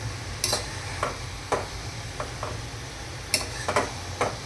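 Amaranth leaves being stirred into a hot spiced tempering in a pan, with a low sizzle under a series of spaced scraping strokes of a spatula against the pan.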